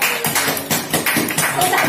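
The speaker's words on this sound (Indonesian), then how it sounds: "Wow, tepuk tangan." Dense, loud applause from a church audience, many hands clapping in a fast, continuous patter that swells and dips slightly throughout with no pause.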